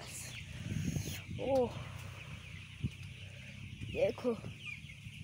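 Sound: chicken clucking

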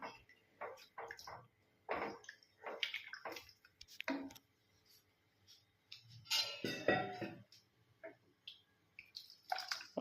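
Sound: water poured into sambar

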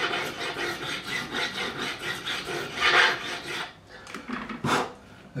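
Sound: hand filing stainless steel guitar frets with profiling file

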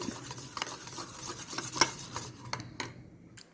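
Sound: stirring ghee lamp mixture with javvadi powder

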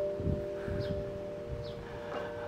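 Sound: wind chimes tinkling

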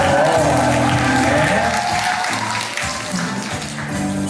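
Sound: audience applause

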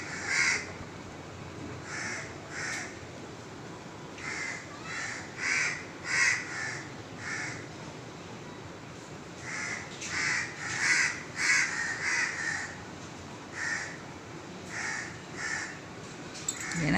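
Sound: crows cawing while chasing a monkey

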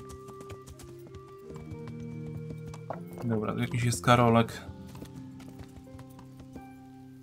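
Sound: horse hooves in video game Kingdom Come: Deliverance

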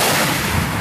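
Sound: TOW missile launch

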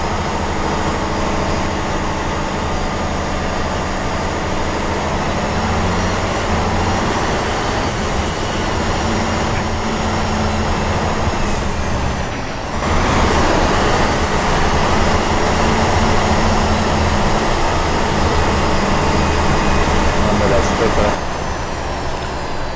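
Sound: Tatra truck engine roar in cabin, Spintires video game

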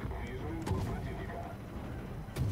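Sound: naval guns firing at a Farragut destroyer, video game

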